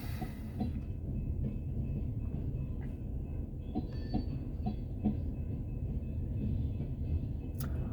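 A long freight train rolls past, a steady heavy rumble with faint clickety-clack of wheels on the rails and occasional high metallic squeals, continuous and fairly close throughout, with no voices.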